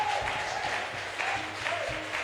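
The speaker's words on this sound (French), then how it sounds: "vous êtes là ce matin à acclamer le Seigneur pour vos mains" A church congregation claps together in acclaim of the Lord, a steady wash of many hands applauding close by, with no voices over it.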